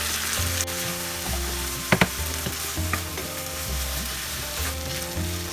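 Paneer bhurji spiced with garam masala and kasuri methi is fried and stirred in a pan over a steady sizzle, with repeated scraping strokes and a couple of sharp utensil clanks, and nobody speaking.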